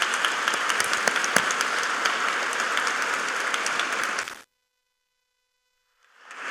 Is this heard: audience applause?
yes